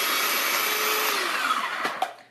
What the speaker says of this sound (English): I guess I could use my Vitamix too.